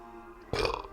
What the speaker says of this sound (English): rage burps